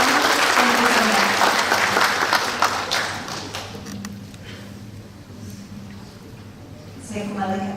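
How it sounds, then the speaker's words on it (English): Loud audience applause for a presenter at a workplace safety and crisis management briefing, strong at first, then thinning and fading, with speech and a voice returning near the end. "Round applause, big applause for our presenter"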